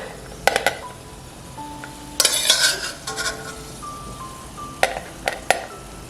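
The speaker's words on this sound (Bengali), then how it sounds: "ফোড়নে দিচ্ছি একটা তেজপাতা আর কিছু গোটা গরম মশলা" A bay leaf and whole garam masala (cardamom, cloves, cinnamon) hit hot oil in a short crackling burst, with a spoon clinking and scraping against the pan between quieter stretches and soft tonal music.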